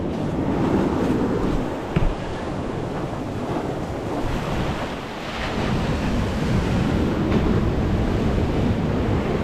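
Sea waves crash and splash against the shore at Whitby, a continuous roaring surge with heavy wind buffeting the microphone and brief louder bursts of spray.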